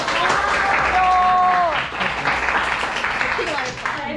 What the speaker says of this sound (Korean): 박수로 맞이해봅시다.